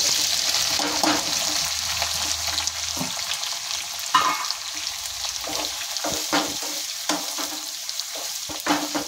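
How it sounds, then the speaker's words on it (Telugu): Green chillies and onion pieces frying in hot oil for uggani and mirchi bajji, a loud steady sizzle with frequent clicks and scrapes of a spoon stirring the pan. "ఇది కొంచెం వేగాలండి, ఒక 2 నిమిషాలు వేగాలి."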